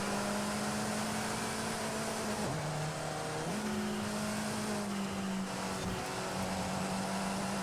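2014 Alfa Romeo 4C engine held at full throttle in Forza Horizon Mexico, a steady loud droning whine with brief dips as gears shift, continuous and close, with no voices.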